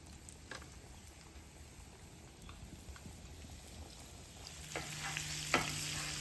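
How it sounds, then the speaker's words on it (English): Chicken deep frying on a flat-top griddle gives a steady soft sizzle and crackle, with a few louder pops and a metallic scrape near the end. "When you're deep frying like this and your whole griddle's on"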